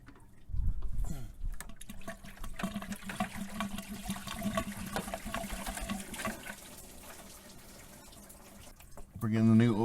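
Engine coolant pours and splashes out of the thermostat housing of a Ford 5.4L V8, a steady liquid gush and trickle that runs for several seconds, ending with a brief voice.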